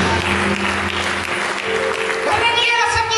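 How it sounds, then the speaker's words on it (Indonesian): Church congregation clapping during a sermon, loud and dense, with a sustained tonal background and voices rising near the end. "Berikan tepuk tangan bagi Yesus Kristus"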